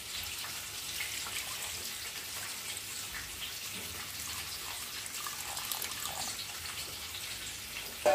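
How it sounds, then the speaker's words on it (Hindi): Hot water poured into a pan of dalia khichuri, a steady broadband splashing pour running nearly unbroken throughout at moderate level, with no voices. "इससे थोड़ा सा गर्म पानी और ऐड कर रहे हैं इसमें"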